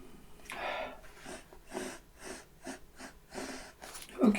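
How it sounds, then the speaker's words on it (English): A person gives a book several quick sniffs up close, a series of short breathy inhalations in an irregular rhythm, fairly quiet, ending with a slightly louder breath. "I'm going to give it a quick sniff and see what we can get out of it."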